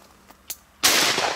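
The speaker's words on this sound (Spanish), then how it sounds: "¿Para qué queremos pegar tantos tiros?" A single loud gunshot during a Spanish wood pigeon hunt over decoys, fired close by with a long rolling tail, preceded by two faint clicks.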